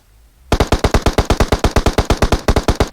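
Automatic gunfire in PUBG Mobile: a loud, rapid burst of about twenty evenly spaced shots that begins abruptly after a short quiet moment, with no voices.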